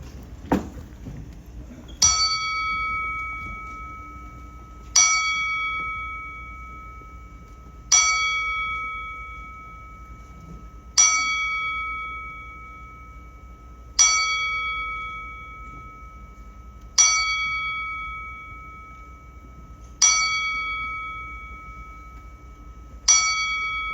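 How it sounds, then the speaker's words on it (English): A bell tolls ten times at a boxing press conference, struck at steady intervals of about three seconds, each ring clear and bright with a long decaying ring over a quiet room. "We will toll the bell 10 times"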